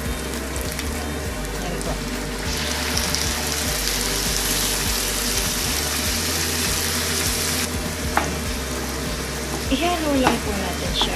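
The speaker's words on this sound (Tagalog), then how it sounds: "Luto na po yung sibuyas. Ilalagay na po natin ang hipon." Shrimp and cooked onions sizzle and fry steadily in a pan for an Arabic shrimp dish, with stirring scrapes near the end. A voice speaks briefly over the loud, continuous hiss.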